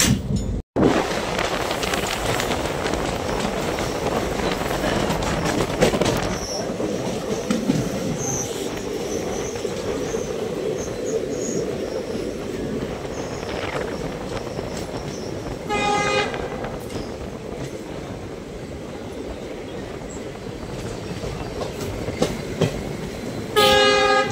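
An old Sifhung Express intercity train runs near New Bongaigaon, its wheels rumbling and clattering steadily close by, with squeals along the rails and short horn blasts sounding late in the run.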